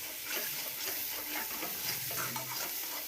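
Soybean vegetable roasting in a pan while being stirred, a soft continuous sizzle broken by scraping stir strokes, close and fairly quiet with no talking.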